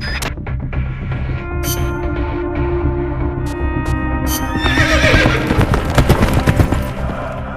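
In Metal Gear Solid Peace Walker, an old horse's hooves clop in a close, rhythmic beat while it neighs loudly, alongside bright game sound effects and tones.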